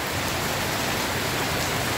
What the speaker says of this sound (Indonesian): karena hujan dari semalamnya